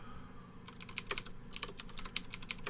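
Typing on a computer keyboard while programming, a quick run of crisp keystrokes starting after a brief pause, irregular clicks at close range with no talking.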